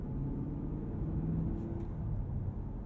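A 2023 Cadillac CT5-V Blackwing Anniversary Edition under light throttle in touring mode, a steady low engine rumble that stays even and muted throughout, heard from inside the car with no voices.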